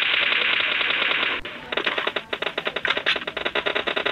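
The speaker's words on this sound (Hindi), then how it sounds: "बेहतरीन, किस तरह फायरिंग कर रहा है" PUBG Mobile assault-rifle gunfire: a long sustained burst, a brief pause, then rapid choppy bursts of shots, loud and close with no voices over it.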